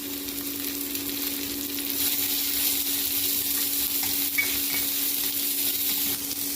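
Pounded ginger, garlic and pepper frying in a pan for chicken liver fry, a continuous close sizzle with light stirring, no voices.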